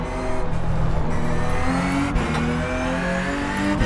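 A Porsche Cup race car in the iRacing sim pulls hard with a loud, continuous engine note that climbs and drops through quick gear shifts, with no voices over it.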